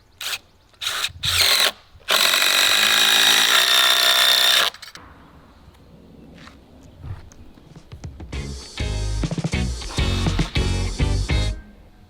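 Power tool driving lag screws into a wooden deck beam during a large deck build: several short whirring bursts, then a long sustained high-pitched drive, a quiet gap, and a final loud grinding, rattling stretch as a screw seats, close up.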